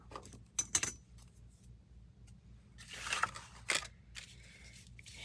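Scissors trimming material for a handmade journal: a few faint, close snips and rustles in a quiet room, one near the start and a pair past the middle.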